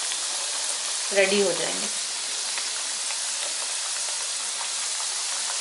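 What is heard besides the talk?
namkeen twisters frying in oil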